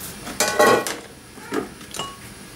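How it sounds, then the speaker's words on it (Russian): A metal pot clanks and scrapes as it is picked up and set down for cooking with a multicooker, with a few light clinks against a quiet room background. "Я беру эту кастрюльку."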